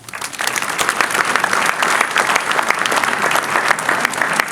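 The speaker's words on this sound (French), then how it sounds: "On peut l'applaudir." An audience claps for several seconds at a community agglomeration's New Year greetings event, a dense, loud burst of applause that starts quickly and holds steady throughout.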